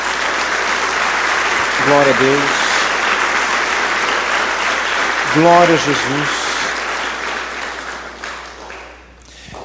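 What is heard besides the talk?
audience applause in church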